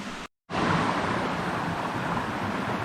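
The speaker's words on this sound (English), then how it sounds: "There's also a lot of water flowing right now right here." Creek water rushes along a nature trail in the Meduxnekeag Valley Nature Preserve, a loud, steady broadband roar close to the microphone after a brief silent gap at the start.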